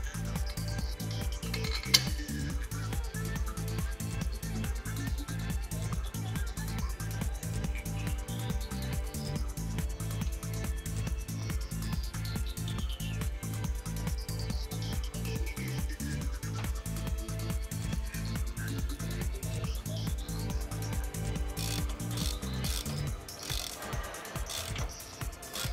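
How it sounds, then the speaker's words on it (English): Four bottom-plate screws on a TWIN BUSCH TW X-36 tyre changer are fastened with a ratchet that makes rapid, evenly paced clicking for over twenty seconds before it stops, close and with no talk. "The bottom plate can now be fastened with the 4 screws."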